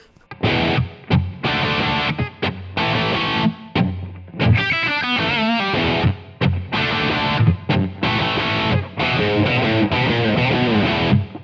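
Distorted electric guitar through an amp simulator plug-in plays a crunchy rock riff with chords and short single-note runs, clean and upfront with no voices.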